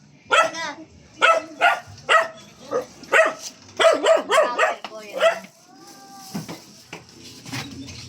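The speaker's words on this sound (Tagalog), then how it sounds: "May aso?" A dog barks repeatedly in a quick series of sharp yaps, fairly close, with people talking nearby.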